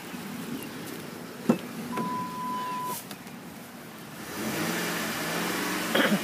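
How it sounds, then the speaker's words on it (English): A 2009 Ford F-150 FX4 pickup engine idles as a steady, faint low hum, growing somewhat louder and fuller in the last couple of seconds. "I'll let you listen to the engine."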